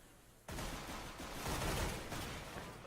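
Dense burst of rapid gunfire erupting suddenly and swelling into a sustained, loud volley, from a professional Counter-Strike: Global Offensive match on the Mirage map.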